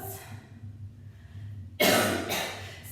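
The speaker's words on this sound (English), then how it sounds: "Had to get a cough out." A woman coughs once, a sharp loud burst that rings out briefly before fading, following a quiet pause in a calm indoor yoga session.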